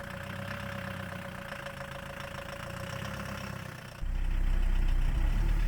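A Chevy S10 pickup with a swapped-in diesel engine runs at a steady idle with a faint knocking clatter, then grows louder and heavier toward the end as it sets off.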